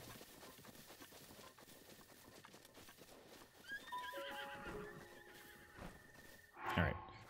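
A horse in The Legend of Zelda: Breath of the Wild clops along steadily, then lets out a clear, descending whinny, followed by a louder burst of snorting near the end.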